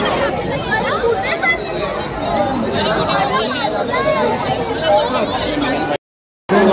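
Dense crowd chatter fills a busy street during the Diwali Pahat festivities on Phadke Road, Dombivali, a steady close babble of many voices that cuts out briefly near the end.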